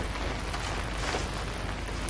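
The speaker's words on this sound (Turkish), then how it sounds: "Yağmur yağıyor var ya bak bu oyun başladığından beridir yağmur yağıyor" Rain pours steadily in the horror video game Outlast, a dense, continuous hiss of downpour at a constant level throughout, with no voices.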